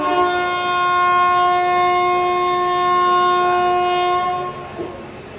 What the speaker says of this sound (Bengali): ডট 11:30 ট্রেন ছাড়লো আমাদের মালদা টাউন